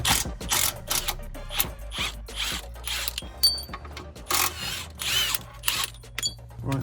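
Ratchet clicking in quick repeated bursts while loosening two 13mm bolts on an anti-roll bar bushing of a Skoda Superb subframe, close and fairly loud, with metallic clatter between strokes and no talk.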